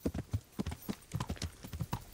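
A horse's hooves clip-clop in a steady, quick walking rhythm on hard ground in the medieval video game Kingdom Come: Deliverance, close and fairly quiet, with no talk over them.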